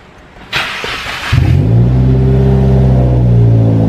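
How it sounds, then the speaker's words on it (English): A stage 2 catless Subaru WRX cranks and fires up with a sharp burst, then settles into a loud, deep, steady engine drone close by, with no talking. "let's go ahead and start this thing and see what it sounds like"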